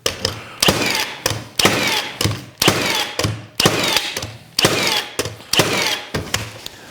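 Milwaukee Fuel 21-degree cordless framing nailer firing nails one at a time in single mode, loud sharp bangs with a mechanical clack, about eight shots at a steady pace with short gaps between them.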